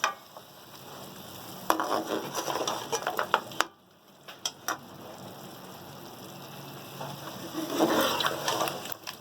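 Spoon scraping and clinking in a pan as ginger, garlic and chillies are stirred for a lamb karahi over a soft sizzle of frying, with irregular stirring bursts and a short lull partway through.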